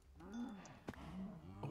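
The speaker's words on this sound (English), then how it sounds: "Stupid cows." Cows mooing in the video game Minecraft, a few low drawn-out lowing calls over a steady background hum, with a brief click partway through and no talk.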